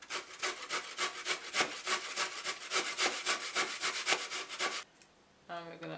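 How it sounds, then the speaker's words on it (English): Peeled, washed coconut grated on a hand grater, a rapid run of rhythmic scraping strokes close by for several seconds, then a pause and a brief burst of sound before quiet. "Once you have peeled it, washed it, you want to grate it on this side of the grater."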